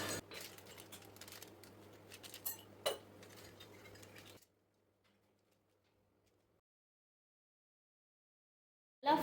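A knife cuts through a fudgy, crinkle-topped brownie in its pan, making a few soft clinks and scrapes of metal that stop partway, followed by near silence.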